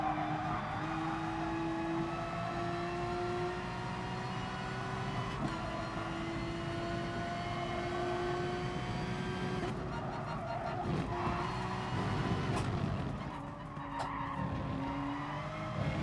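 A Porsche GR.3 race car lapping Suzuka in GT Sport, its engine droning steadily with rising and falling pitch through gear changes, joined by tyre skids and squeals near the end.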